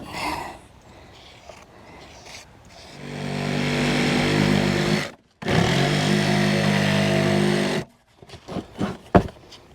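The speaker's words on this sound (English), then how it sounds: "Okay, you gotta cut these things. So Tom cut the hole" A power tool cuts a hole through a plastic stormwater drainage basin, running as a loud, steady buzzing whine for several seconds with a brief stop between two long runs, then falling to scattered bumps and knocks.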